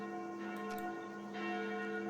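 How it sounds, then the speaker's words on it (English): Church bells tolling at noontime in the horror game Sucker for Love, a steady ringing drone with layered overtones that swells slightly near the end, heard alone without talk. "Those sounds like the church noontime bells."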